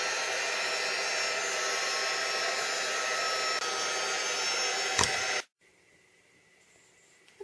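Heat tool blowing steadily to dry spritzed Shimmerz paint, a loud continuous whooshing roar that cuts off abruptly, leaving near silence.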